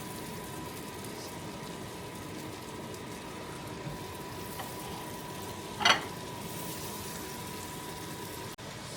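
Garlic and onion fry in a pan with a steady, soft sizzle throughout and a brief louder crackling burst midway.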